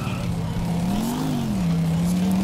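An old car engine droning in GTA 4 as the car drives, a steady mid-level hum whose pitch rises and falls slightly, with faint background noise.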